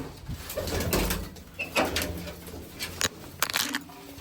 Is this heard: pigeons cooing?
yes